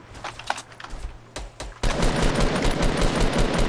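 Gunfire in the Fortnite video game, scattered single shots followed by a sustained loud burst of rapid automatic fire, with no talk over it.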